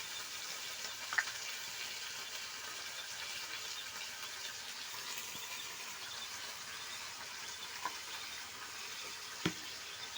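Okra curry seasoned with salt and turmeric fries in a pan while being stirred, giving a soft, steady sizzle with a few faint scrapes and clinks of the spoon.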